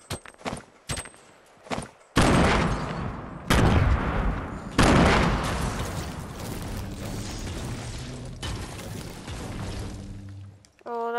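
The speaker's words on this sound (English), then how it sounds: "Let's throw a grenade." Gunfire and a grenade explosion in the video game Fortnite: sharp separate shots at first, then loud booming blasts with long rumbling decay, followed by scattered mechanical clatter.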